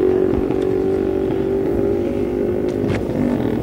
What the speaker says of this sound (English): The Ducati, and Dickenson was on a BSA